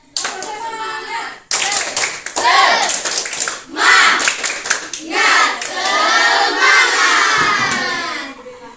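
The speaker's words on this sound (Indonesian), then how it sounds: "mari kita tepuk semangat" Classroom of children doing a rhythmic clapping chant, loud bursts of group claps alternating with kids chanting and shouting in unison, close and energetic with brief pauses between phrases.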